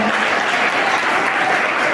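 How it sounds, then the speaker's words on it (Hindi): Loud, dense, continuous applause fills the hall from a crowd at a Kargil Vijay Diwas commemoration, steady and uninterrupted for the whole stretch. "आप सबके लिए एक बार जोरदार तालियां बजा लीजिए आप"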